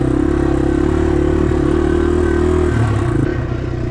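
A Yamaha TW200 fitted with off-road upgrades rides along a dirt trail, its engine drone loud and close with a steady low throb and slight clatter, easing off near the end.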